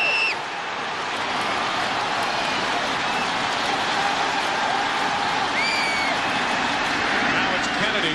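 A packed baseball stadium crowd at Game 7 of the 2002 World Series between the Los Angeles Angels and San Francisco Giants keeps up a steady, rushing roar of cheering, with a broadcast voice talking over it.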